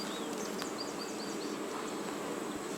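Honeybees hum in a steady, close drone around a beekeeper in a protective suit, with a few faint high chirps over the continuous buzz.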